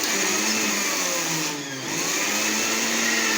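An electric blender whirs steadily, beating a thick mango ice cream mixture with cream, a loud continuous motor drone with a brief dip in pitch midway before it picks back up.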